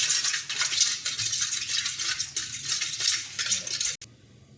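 Spoon scraping and clinking steadily against a bowl while pizza dough ingredients are stirred together, a busy close rattle that stops abruptly near the end.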